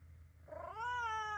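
A calico cat gives one drawn-out, rising meow after a short quieter chirp, close to the microphone and loud, with no talking over it.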